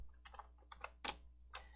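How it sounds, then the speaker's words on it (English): Typing on a computer keyboard: a quick run of light clicking keystrokes in an irregular rhythm, close and quiet with no talking. "I'm already typing"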